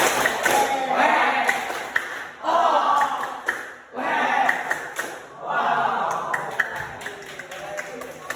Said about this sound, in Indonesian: Kasih tepuk tangan. Tepuk tangan.